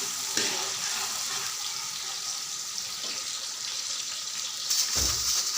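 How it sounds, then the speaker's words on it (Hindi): Onions go into hot oil in a home kitchen pan and fry with a steady, bright hiss, close and moderately loud, with a brief louder burst of sizzling near the end. "अब हम इसमें प्याज डालेंगे।"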